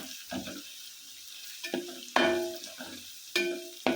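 Browned garlic, ginger and green chilli frying in a pan as spice powders go in for a dried prawn pickle: a steady low sizzle broken by several sharp, close stirring clanks and scrapes.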